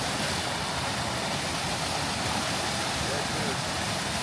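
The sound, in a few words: waterfall flowing in Waimea Canyon, Kauai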